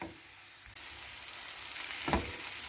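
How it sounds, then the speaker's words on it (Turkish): Vegetables sautéing in hot oil for a Turkish stuffed eggplant dish give a steady, close sizzle and crackle that jumps louder partway through, with a brief stir near the end. "Bunları güzelce soteleyeceğim."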